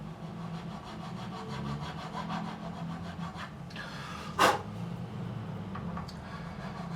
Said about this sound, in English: all we're doing is we're just going to widen that slot